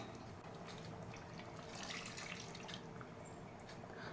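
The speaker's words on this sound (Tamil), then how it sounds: "இப்போ வந்து தண்ணி ஊற்றிக்கலாம்" Continuous splashing stream of water pouring into a cooking pot of chicken curry, steady and close, with a slightly brighter gush midway.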